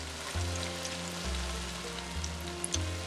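Mixed vegetables cook in an uncovered pan, giving a soft, steady sizzle with faint crackles under low background music.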